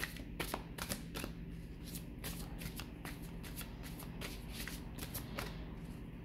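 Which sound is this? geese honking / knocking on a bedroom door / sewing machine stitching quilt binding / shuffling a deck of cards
shuffling a deck of cards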